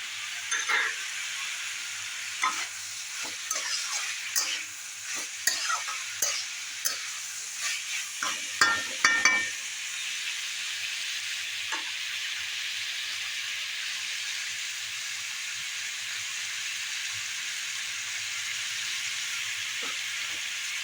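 Green chillies go into a frying prawn and potato dish in a pan. A bright, even sizzle runs throughout, with a cluster of scraping stirs in the first half before it settles into a steady hiss.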